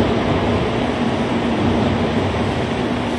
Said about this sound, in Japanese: 22番線ご注意ください列車の到着です